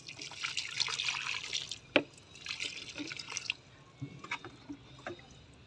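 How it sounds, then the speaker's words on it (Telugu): Coffee-powder water is poured onto a potted plant in a few short splashing pours and scattered drips, faint and close, with pauses between pours. "ఓకే, ఇప్పుడు దీనికి కూడా కాఫీ పొడి వాటర్ వేస్తున్నాను."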